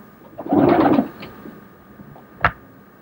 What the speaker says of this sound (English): that's Bill McRae's pigeons